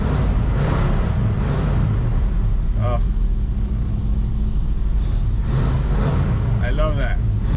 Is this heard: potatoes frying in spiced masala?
no